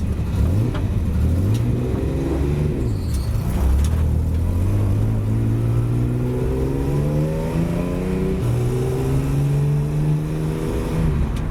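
A 1979 Datsun 280Z road-registered track car revs its engine hard, heard from inside the cabin with the window down. Repeated loud climbs in pitch are broken by shifts, and the engine stays close and dominant throughout with no talking.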